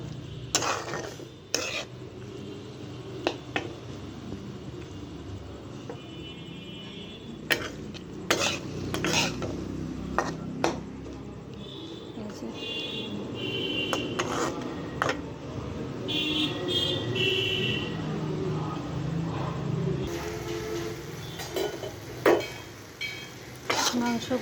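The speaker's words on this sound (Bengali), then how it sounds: "নাড়াচাড়া করতে হবে যেন মাংসটা ভালোভাবে সিদ্ধ হয়" Meat frying in a pan is stirred with a utensil, continuous sizzling broken by repeated sharp metal scrapes and clinks against the pan, close and moderately loud, with occasional soft voices in the background.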